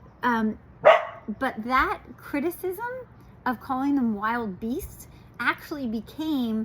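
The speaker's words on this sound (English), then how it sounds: "Scout. Stop it, buddy. That's my dog Scout." A pet dog named Scout barks repeatedly in short, close, loud bursts indoors, overlapping a person speaking.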